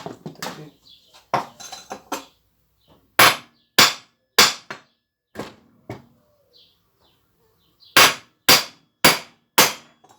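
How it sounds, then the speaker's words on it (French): A hammer strikes a part of a Stihl FS90 4-mix engine in sharp metallic taps, first a few scattered clusters, then evenly spaced single blows in two bursts of four, with quiet gaps between. "Je vais plus prendre le marteau là. Taper."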